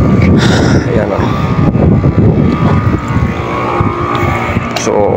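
An air conditioner unit that had lost power starts up and runs with a loud, steady mechanical drone and rumble, while people talk over it.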